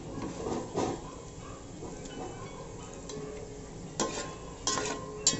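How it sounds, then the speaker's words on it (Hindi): Mutton pieces coated with turmeric brown in oil, a low steady sizzle broken by a few spatula scrapes and stirring knocks, with no talking. "थोड़ा 1/2 मिनट तक हम इसे तेल में इस तरह से भून लेंगे"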